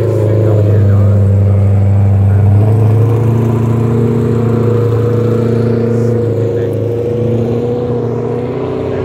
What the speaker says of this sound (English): Why is everybody's car sound so good?